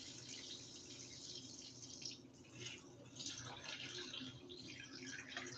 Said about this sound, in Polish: We add 600 grams of water.